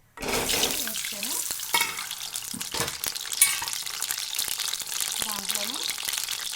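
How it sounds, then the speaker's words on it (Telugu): Eggs drop into hot oil and fry with a bright, crackling sizzle that swells and spits in bursts, interspersed with clinks and scraping of a utensil, close and moderately loud throughout. "ఇప్పుడు నేను ఆయిల్లో ఎగ్లు వేసేస్తాను."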